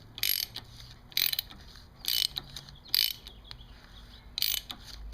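A suspension adjuster on a Kawasaki Ninja 1000 is turned counterclockwise, giving about five separate bursts of metallic clicking, ratchet-like and close, spaced roughly a second apart.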